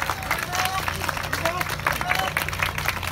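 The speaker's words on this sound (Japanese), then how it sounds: "大きな拍手をお願いします。" Audience at a Kumamoto earthquake recovery festival in Ozu applauding schoolchildren, a sustained crowd of clapping with a murmur of voices and a few whistle-like tones over it.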